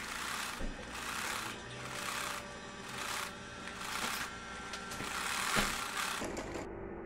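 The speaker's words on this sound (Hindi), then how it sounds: "मैं इधर इसी तरह से सिलाई लगा दूँगी। पहले हम सिलाई इधर लगाएंगे।" Sewing machine stitching baby shirt fabric, a close, steady mechanical whir with a rapid needle clatter that swells and eases in repeated runs.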